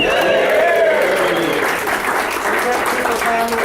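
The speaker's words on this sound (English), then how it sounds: "Why don't everybody give a big 80th anniversary cheer?" Crowd at an association general membership meeting cheering and clapping for an 80th anniversary, a loud, steady burst of applause and shouts filling the room, with voices mixed into the noise.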